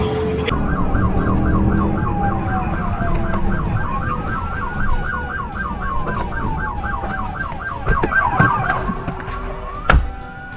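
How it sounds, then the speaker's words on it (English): Police sirens wail continuously at moderate distance during a high-speed police chase, their rising and falling tones repeating over traffic rumble, with a couple of sharp knocks near the end. "lights flashing, sirens wailing, tires screeching like a soundtrack to a confession"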